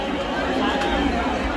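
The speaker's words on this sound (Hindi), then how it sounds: "देखो देखो भीड़, देखो भीड़ है," Crowd at a riverside ghat in Haridwar: dense, close, continuous babble of many overlapping voices with steady background hubbub and no distinct single sound standing out.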